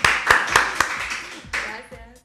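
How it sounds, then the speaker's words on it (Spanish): A few sharp handclaps from podcast guests and audience ring out close by in a quick, uneven burst, then fade as voices begin talking. "Un aplauso."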